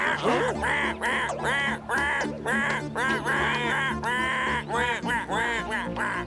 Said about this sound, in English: It looks as though this poor goose got in their way.